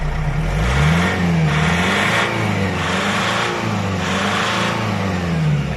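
A Nissan Frontier with a 3.0-litre ZD30 diesel engine, fitted with a throttle-unlock chip, revs up and settles back about four times in a steady rhythm. The engine is close and loud, with no talking.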